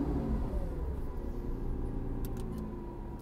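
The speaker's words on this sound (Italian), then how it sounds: "la metto in modalità corsa e mi preparo ad accendere l'auto" A Lamborghini Aventador LP 780-4 Ultimae's V12 engine starts and settles into a deep, steady, close rumble, heard alone with no talking.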